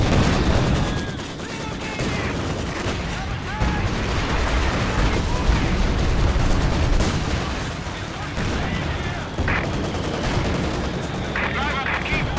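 Battlefield gunfire in Company of Heroes 2, with a German Panzer IV tank and infantry squads firing in dense overlapping bursts and booms, loud and continuous throughout, with voices calling out over the combat.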